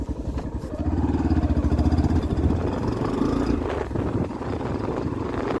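A motorcycle engine runs close by at a steady pulsing rumble for several seconds after a stop for petrol, easing off briefly before picking up again.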